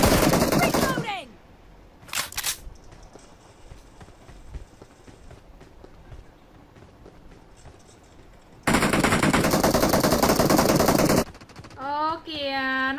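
Gunfire including shotgun blasts comes in loud bursts: a short volley at the start, a quick shot, then a long sustained barrage, with a voice speaking near the end.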